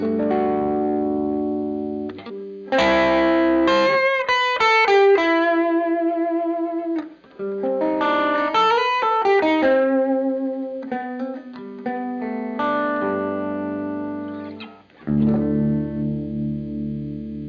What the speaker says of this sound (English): So right away I heard the classic AC30 sound.